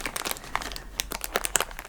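Plastic packaging around a phone case crinkles and crackles close up, quiet and irregular, in short rustling bursts with no talking.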